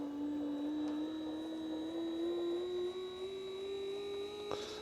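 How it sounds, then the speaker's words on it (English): Fuel injector test machine for a 1974 Porsche 911 running with a steady electric hum and a slowly rising whine, close and even, with no talking. "so I put it on the injector test machine"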